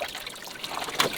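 Water sloshes and trickles in short bursts while laundry is washed by hand in the bow compartment of a two-piece dinghy used as a washtub, with a brighter splash near the end, fairly close and quiet.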